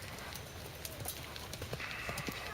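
A horse trotting during a groundwork training lesson, its hoofbeats a steady clip-clop rhythm close by against a busy outdoor background, with a brief whinny-like sound possible.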